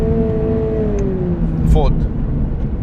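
Subaru BRZ with a six-speed manual pulls through the gears from inside the cabin, engine note rising steadily then dropping briefly at a shift, with someone talking over it.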